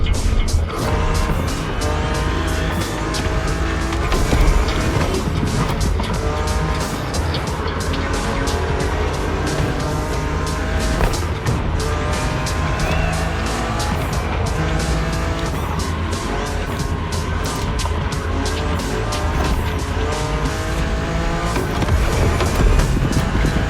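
A BMW drives in The Crew Motorfest racing game, engine note steady and loud throughout, with tire squeals and skidding over continuous road noise.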